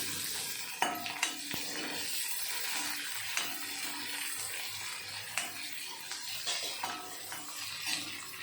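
Onion and green chili sizzle in a hot pan while a spoon stirs them, with distinct metallic taps and scrapes of the utensil against the pan over a steady frying hiss, close up.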